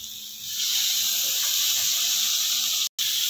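Finely chopped tomato dropped into browned, cooked masala for a besan and onion sabzi, a loud hiss of sizzling that swells in quickly and holds steady, with a brief break near the end.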